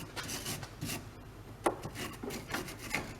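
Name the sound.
wire brush cleaning a car ball joint mount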